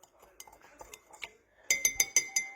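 A spoon stirs sugar and water in a bowl: soft scraping taps at first, then five sharp, bright clinks in quick, even succession, close and clear.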